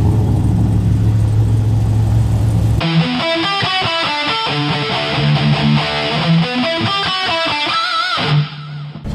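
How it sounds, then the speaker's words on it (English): Race cars drive and rev at a Powercruise car event, first as a dull engine drone in the background, then as loud, distorted revving with rapidly rising and falling pitch over several seconds. "Already hear the cars going in the background."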